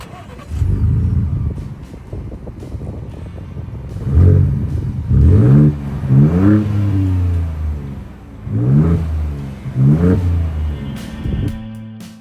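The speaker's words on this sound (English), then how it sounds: "Now for the fun part, let's fire her up and hit the road." A Ford Ranger Raptor engine starts and revs hard several times nearby, each rev climbing and falling away before settling back to a low idle rumble.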